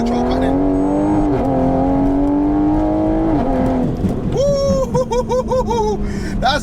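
A 760 bhp Toyota MK5 Supra pulls hard in second gear, its engine roaring loud and close from inside the cabin as the pitch climbs, stutters where traction control cuts in, then surges again with a high whine and rapid revving bursts.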